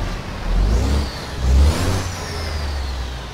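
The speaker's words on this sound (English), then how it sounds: "This is Creature Bum's new C15 straight pipe" Caterpillar C15 engine with a straight pipe on a T800 truck in American Truck Simulator revs up twice in loud, deep roaring swells, then settles into a strong, rumbling drone with a rising whine.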